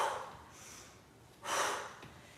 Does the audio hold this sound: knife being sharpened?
no